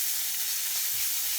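Garlic and aubergines frying in a pan, a steady soft sizzle with faint crackle running evenly throughout, with no voices.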